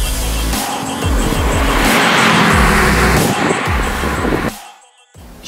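A 1999 Opel Vectra B Caravan with a 2.5 V6 engine roars loudly, revving and surging with a tire squeal, then drops abruptly to near silence before picking up again.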